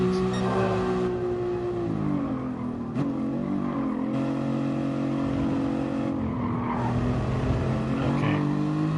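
A powerful race car in an amateur racing video game whines through gear changes, its engine pitch rising and dropping with shifts and brief tire skids, loud and continuous.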